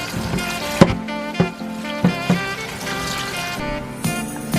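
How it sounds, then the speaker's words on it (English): Cold water poured from a tap over cooked food in a home kitchen to halt the cooking, a steady trickling splash with several sharp clanks and knocks of a pot or pan breaking through. "I'm just going to cool it off so we can stop the cooking with some cold water"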